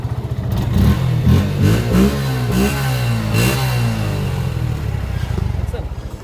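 A Suzuki Gixxer SF FI ABS motorcycle engine idling close by and revving up in a couple of throttle bursts before settling, with a voice talking over it.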